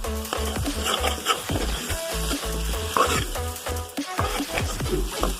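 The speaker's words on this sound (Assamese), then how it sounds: "অলপ সময় এনেকৈ ভাজি থাকিব লাগিব, ভালকৈ সিজি যাওক" Pigeon meat and potatoes fry in a pan, with steady close sizzling broken by repeated scraping and stirring knocks of a spatula throughout.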